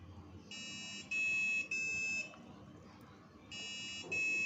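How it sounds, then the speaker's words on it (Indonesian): An LPG gas leak detector built around an MQ-6 sensor sounds its buzzer in repeated short, shrill electronic beeps, pulsing on and off in groups over a faint background hum. "jika terjadi kebocoran pada gas, maka buzzer akan menyala"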